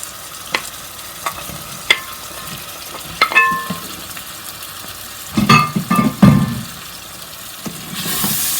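Chopped tuna being stirred into a pot of lentil porridge, with a soft sizzle under a series of spoon scrapes and clacks against the pot, spaced apart and then bunching into a louder burst of mixing near the end.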